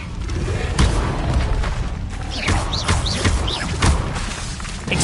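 Spell-casting effects in Hogwarts Legacy: dense booming blasts and thuds with whooshing, chirping magical swirls, loud and continuous through the whole stretch.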